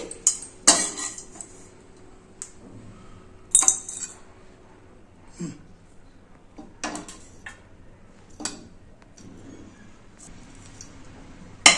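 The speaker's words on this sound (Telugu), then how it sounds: "గిన్నెలోకి సర్వ్ చేస్తానండి" Metal spoon clinks and scrapes against a pot and bowl as carrot fry is served, scattered sharp clatters of varying loudness with quiet gaps between them.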